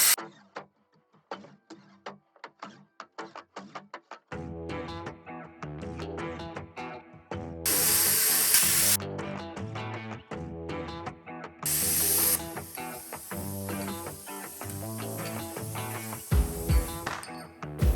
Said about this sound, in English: I'm fixing to cut off this lower shock mount on both sides with my plasma cutter